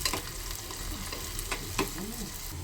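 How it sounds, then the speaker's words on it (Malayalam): Ghee tempering for a chicken stew crackles in a pan with a soft, steady sizzle and a few sharper pops and stirring scrapes, fairly quiet and with no voices. "ഇത് ലേശം നെയ്യും ചേർത്ത് ഞാനൊന്ന് താളിച്ച് കൊടുക്കുന്നുണ്ട്."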